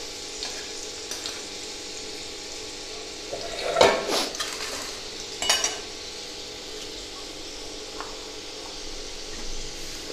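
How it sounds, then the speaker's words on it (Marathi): Garlic roasts in hot oil in a pan, a soft steady sizzle broken by a few clattering spoon-and-pan knocks and scrapes, with no one talking. "लाल भाजून घ्यायचं आहे लसूण"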